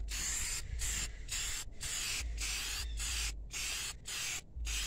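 Black paint sprays from an aerosol can onto Honda Accord CB7 rims for a second coat. Close, loud hissing bursts repeat about seven or eight times, with short silent gaps between them and no talking.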